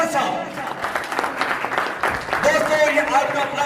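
Audience applause at a Gup Shap Corner event, welcoming the host: a steady, dense patter of many hands clapping, with a voice speaking over it.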